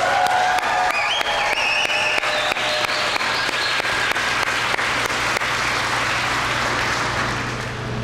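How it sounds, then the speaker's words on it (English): Crowd at an EMS graduation ceremony erupts in loud, sustained clapping with cheering and whoops on top, a thick continuous roar that holds for several seconds before easing slightly at the end. "I need you to clap and stomp your feet and scream as loud as you can."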